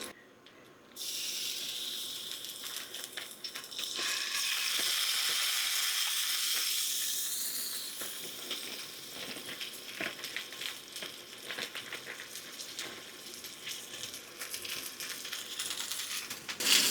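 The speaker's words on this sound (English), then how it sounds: "I'm going to put a little bit of olive oil in this pan because this is the pan we're going to cook the turkey breakfast sausage" Turkey breakfast sausage frying in olive oil in a pan, a loud hissing sizzle that swells after a quiet start and then settles into a steady crackle with scattered pops, close up.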